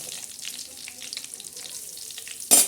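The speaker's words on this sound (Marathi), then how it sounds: "मिरच्या छान अशा परतून घ्यायच्या" Green chillies sautéing in hot oil in a pan, a soft continuous crackle and sizzle with small pops, ending in a brief louder burst near the end.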